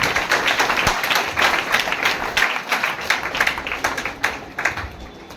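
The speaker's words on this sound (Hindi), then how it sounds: "उस परमेश्वर को जोरदार ताली बजाकर उसकी मेहनत करें" Church congregation clapping hard during a sermon, a rhythmic series of loud claps in a reverberant hall, fairly steady tempo throughout.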